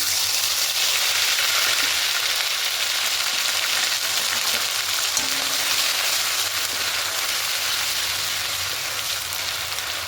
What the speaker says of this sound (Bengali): এবার ফোড়নে দেব গোটা গরম মশলা দারুচিনি এলাচ লবঙ্গ আর এখানে পেস্টটা করে নিয়েছি এবার এখানে দেব আদা রসুন পেস্টটা